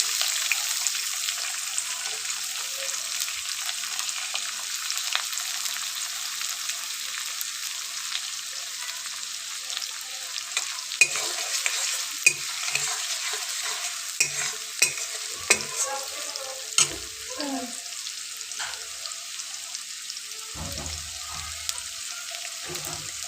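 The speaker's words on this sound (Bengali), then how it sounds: "দিয়ে দিব পেঁয়াজ কুচি।" Chopped onions for eggplant bharta sizzle in a pan on an electric heater, a steady close frying hiss broken by scraping stirs and clicks, with a little talk in the background.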